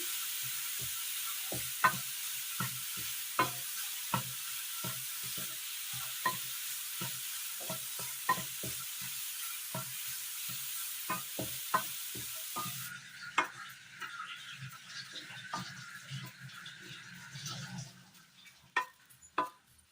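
Carrot frying in ghee over a low flame, a soft sizzle with regular spoon strokes stirring the pan, close and fairly quiet, the sizzle thinning partway through while the stirring continues.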